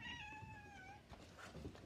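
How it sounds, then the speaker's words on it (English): A house cat gives one long, drawn-out meow followed by softer short calls, close and quiet with no talking over it. "Oh, kitty cat. Hey, kitty."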